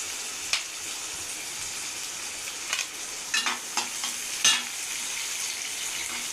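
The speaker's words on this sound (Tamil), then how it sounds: "வெங்காயம் போட்டு நல்லா வதங்கட்டும்" Onions sauté in a pan with mustard seeds, giving a steady, close sizzle broken by scattered sharp pops and a few scraping stirs, with no talk.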